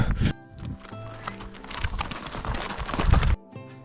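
Horse hooves clip-clop on hard ground on the Salkantay trail to Machu Picchu, Peru, in an uneven, close rhythm, with a horse whinnying and snorting partway through.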